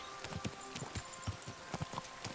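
Horse hooves galloping in Kingdom Come: Deliverance II, a fast, steady run of clip-clop hoofbeats at moderate volume with no talk over them.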